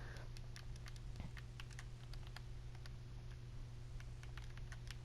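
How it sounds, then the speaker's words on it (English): Rapid keyboard typing while writing on a sign in a Minecraft subway-interior build, a steady run of light, close clicks over a constant low hum, with no talking. "Whoops, I'm so good at typing."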